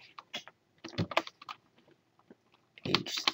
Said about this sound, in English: So, when we type in